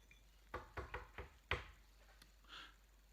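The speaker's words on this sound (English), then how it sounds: "there was a knock on the door of the castle." Five knocks rap on a castle door in an uneven sequence, the last one hardest, sounding close and sharp in an otherwise quiet room.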